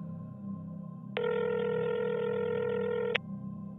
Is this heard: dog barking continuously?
no